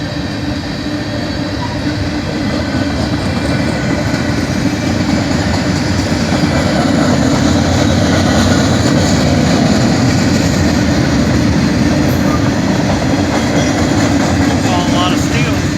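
A long freight train, with cars likely loaded with steel, rumbles steadily past a crossing at 4th Street in Chesterton, Indiana, a close continuous roar and clatter of wheels that stays loud throughout while voices talk faintly beneath it.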